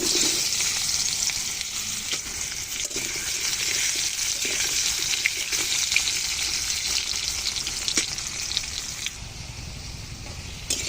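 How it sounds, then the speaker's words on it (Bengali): Vegetables fry in hot oil in a kadai with a loud, steady sizzle that crackles continuously from start to end, with no voices. "যে কড়াইতে তেল দিয়েছি, তেল তো গরম হয়ে গেছে"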